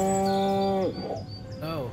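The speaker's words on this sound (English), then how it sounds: "Okay, reach the cow paddock." Cattle in the cow paddock of the video game Destroy All Humans give a loud, drawn-out moo that falls off in pitch, followed by a second fainter, shorter moo, with no talking over it.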